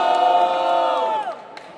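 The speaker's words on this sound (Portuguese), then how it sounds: "Barulho só pra quem achou que foi Neo, família!" Rap battle audience erupts in loud cheering and shouts, a sustained crowd roar that drops off abruptly near the end.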